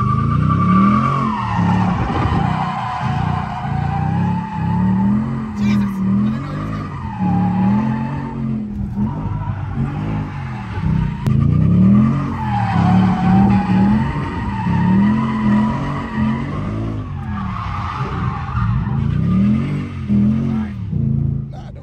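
Ford Mustang RTR looping through no-handbrake figure eights in first gear, engine revving in repeated surges as the tires squeal and skid with each turn, loud and sustained.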